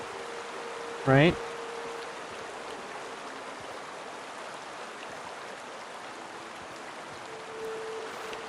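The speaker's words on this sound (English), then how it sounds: "So, it sounds like running water" Steady, hissing flow of running water in the video game The Outer Worlds, continuous throughout at moderate level, with a brief spoken word early on.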